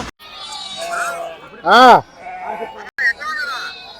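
A loud sheep bleat, one long wavering cry, rises out of a busy crowd murmur at the Gudur sheep market, with people chatting nearby.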